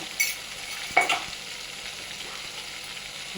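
Masala spices of turmeric, Kashmiri chilli powder and garam masala stirred into hot oil in a pot for one-pot chicken biryani, a soft steady sizzle with a couple of brief scraping stirs near the start.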